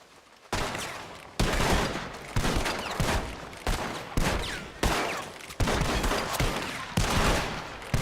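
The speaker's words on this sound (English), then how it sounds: "I'm shooting through the crack." Repeated gunfire from Red Dead Redemption 2, loud shots fired through a crack in a door, about eight heavy bursts spaced roughly a second apart, each with a reverberant tail, no talk.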